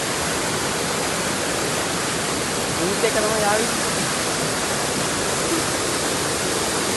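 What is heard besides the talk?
water rushing in a stream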